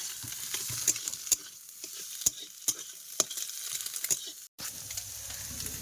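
Potatoes, onions and egg stir-fry in a pan with a soft continuous sizzle, broken by sharp spatula clinks against the metal every second or so, close but fairly quiet, with no voices.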